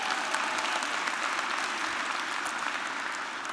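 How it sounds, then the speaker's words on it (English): Alumni at a university investiture ceremony applaud steadily, a dense, even wash of clapping from a large crowd throughout. "Yeah, cheer a little bit."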